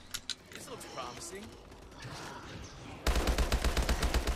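HBR rifle gunfire in Call of Duty Advanced Warfare, Exo Zombies on a carrier: a steady burst of rapid, evenly spaced shots starts late and runs loud to the end, after quieter game noise and some talk.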